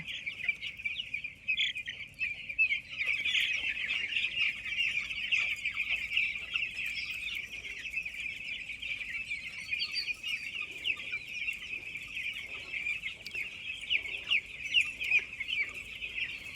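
A dense flock of chickens on a poultry farm with water pipelines and drinking nipples clucks continuously and steadily, a close, busy chorus with no gaps.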